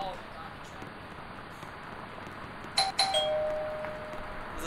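A bright two-tone electronic doorbell in the Roblox game Ro-Citizens chimes once, ringing out clearly over a low background hum and faint talk.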